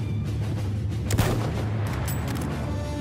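A single muffled boom of gunfire in the video game Battlefield 1 rises briefly out of a loud, dense rumbling background, with no other distinct shots.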